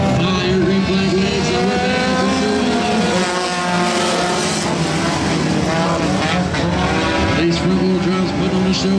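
Race cars in an Extreme 4 heat race roar past together, a loud, sustained engine drone with rising and falling pitch as the field circles the track.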